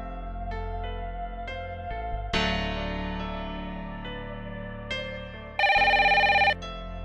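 A telephone rings while a call is being connected, giving a series of tonal electronic ring chimes that step between pitches, with a louder buzzing burst near the end and no talk.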